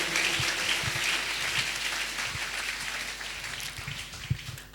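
A church congregation breaks into sustained, dense applause, steady and fairly loud throughout, with a few more distinct claps standing out near the end.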